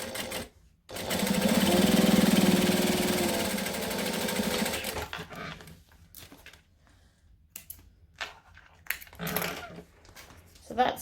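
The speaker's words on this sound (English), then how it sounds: "I'm going to flip it around and I'm going to top stitch this edge" Sewing machine top stitching the edge of a handmade wallet, a steady close whirring run of about four seconds that winds down and stops, followed by quiet handling sounds.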